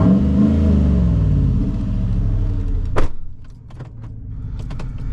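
The 6.0L Vortec V8 of a 2016 Chevrolet Silverado 2500HD with aftermarket exhaust rumbles deeply, then revs sharply once before settling back to a low idle, with a few faint mechanical clicks afterward.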